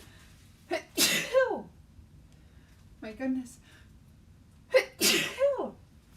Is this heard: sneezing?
yes